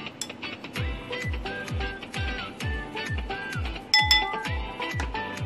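A small spoon stirs chocolate cake batter in a bowl, clinking against the sides in a steady, quick rhythm of close taps, with a few brighter clinks near the end and no talk.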